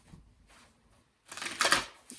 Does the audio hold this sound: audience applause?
no